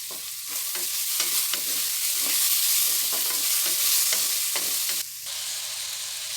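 Tomatoes sautéing in a pan with curry leaves and mint for mushroom biryani, a steady close sizzle with light stirring scrapes throughout, no voices.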